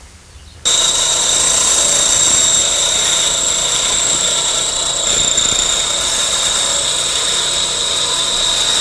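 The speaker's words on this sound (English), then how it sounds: "So this is the curve that we're going to put in it. And we're going to do that with the bandsaw." A bandsaw cuts a curve into a piece of zither wood, starting abruptly after a quiet moment and then running as a loud, steady high-pitched whine and hum that continues unbroken to the end.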